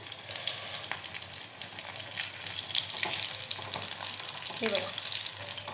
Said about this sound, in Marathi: मीडियम गॅसवरतीच तळून घ्यायचं